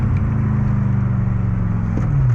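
A BMW E30 fitted with an M60 V8 pulls hard under full throttle on a winding mountain road, its loud, close engine roar climbing steadily in pitch with a pulsing low-end growl.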